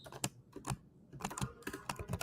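Rapid, irregular clicking of a computer keyboard being typed on, with bursts of keystrokes and short pauses, faint and close.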